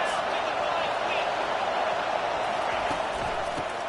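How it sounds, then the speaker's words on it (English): A steady, dense roar from a college football stadium crowd in a video game, loud and continuous throughout, without any clear breaks or single standout cheers. "This crowd trying to make life miserable for this offense."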